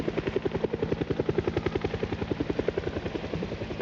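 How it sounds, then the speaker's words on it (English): A loud helicopter thunders overhead in a video game, its rotor blades chopping in a fast, steady pulse throughout, close and dominant with no voices. "that chopper's loud"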